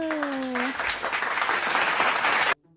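Applause from a small group breaks out right after a plea for clapping during a Thai home-baking session, with a voice speaking briefly at the start and the clapping cutting off abruptly near the end.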